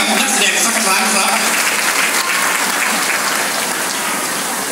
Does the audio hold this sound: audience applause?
yes